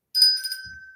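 A single bright ring of a small bell during a livestream, sharp onset with a clear sustained tone fading over about a second, loud and alone.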